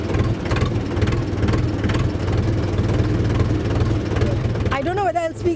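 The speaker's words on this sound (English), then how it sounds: "So you're driving a tractor after how many years, sir?" A tractor engine chugs at close range with a steady, rhythmic low throb as it is driven, while people talk over it.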